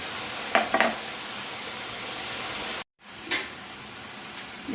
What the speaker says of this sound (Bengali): সর্ষে পোস্ত লঙ্কা 3টে একসঙ্গে বেটে রেখেছি, এটা দিয়ে দেবো